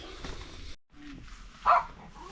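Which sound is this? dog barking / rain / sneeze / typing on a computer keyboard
dog barking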